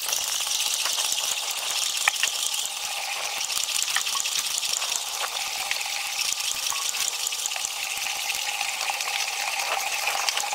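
Water poured into a cement mortar mix for bricklaying a wall, a steady close gushing and rattling wash that runs continuously without pause and without talk.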